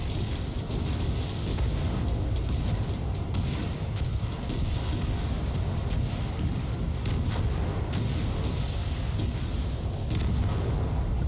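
Unit battle in the Crossfire Legion strategy game, a dense continuous din of rumbling gunfire, artillery booms and explosions layered together without pause, steady and loud throughout.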